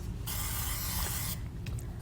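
A hand-pumped olive oil sprayer releases one steady, close hiss of oil mist that runs about a second before cutting off, with low background rumble underneath.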